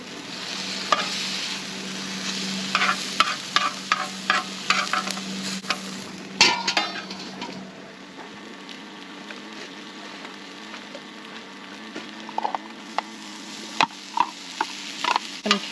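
Steaks fry on a Skottle grill outdoors, giving a steady soft sizzle with scattered scraping and clinking from turning the meat.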